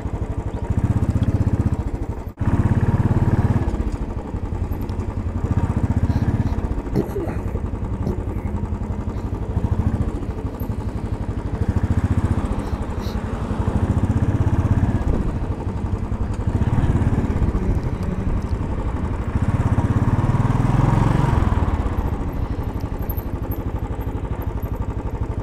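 Royal Enfield motorcycle engine running steadily as the bike rides along 125th Street near 2nd Avenue in the city and turns into a gas station, a loud continuous thrum that swells and eases with the throttle, with no talk.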